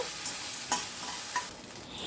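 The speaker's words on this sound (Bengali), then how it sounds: "আদাটাকে একটুখানি ভাজা ভাজা মতো করে নিচ্ছি, আদার কাঁচা ভাবটা যেন চলে যায়" Ginger fries in a pan while being stirred continuously, a close, steady hissing sizzle broken by a few scraping stir strokes, with no voices.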